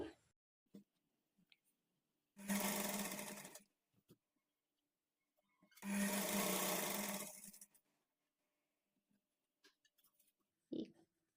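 A sewing machine stitching a double-folded hem on a front-slit designer kurti, two steady whirring runs of a few seconds each separated by quiet pauses, close and loud, with small clicks between.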